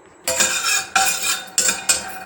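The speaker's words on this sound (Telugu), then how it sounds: "అరకప్పు పల్లీలు ఇవి కూడా దూరగా వేయించుకోవాలి ఏవి కూడా నూనె లేకుండానే" Peanuts dry roasting in a pan without oil are stirred in four distinct scraping, rattling bursts, loud and close, separated by short pauses.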